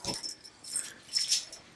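Close by, a dog makes a few short, wheezy whines and snorts in scattered bursts in a quiet room, with no talk.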